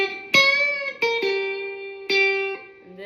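Distorted electric guitar plays the short lead lick from a song intro. Several picked single notes sustain with bright overtones and a slight bend, close and clear, with nobody talking.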